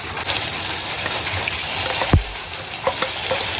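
Onions and tomatoes fry in hot oil on a stove, giving a steady, close sizzle with occasional stirring scrapes and a soft thump, no voices over it.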